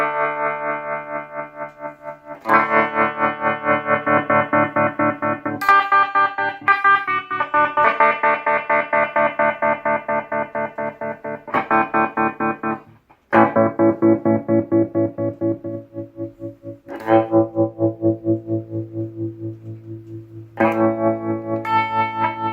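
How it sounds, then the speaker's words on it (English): Electric guitar chords run through a Shapeshifter tremolo effects pedal, the volume throbbing in fast, steady pulses. The chords change every few seconds with brief gaps, loud and alone with no voice. "the tremolo on this sounds like this"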